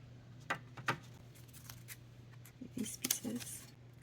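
Scissors cut out paper pieces for a heart and hexagon split box, making quiet, close snips: two isolated cuts early on, then a denser cluster of snipping, with a voice speaking faintly between them.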